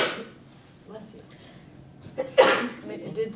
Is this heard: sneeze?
yes